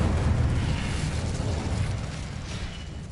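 Incendio fire spell cast in the video game Hogwarts Legacy, a loud whooshing burst of flame that roars at the start and slowly fades over about three seconds, heard alone without talk.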